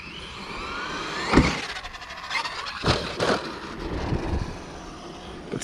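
Traxxas Brushless Edition E-Revo RC truck driving outdoors, its electric motor whining and rising in several surges with gritty crunches and wind noise, at moderate distance.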